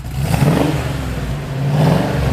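A 1972 Ford Bronco U15 4x4 engine revs up and holds a loud, throaty drone, swelling again toward the end, close by with no talking.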